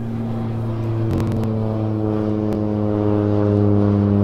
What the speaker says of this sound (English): there you saw just a little plane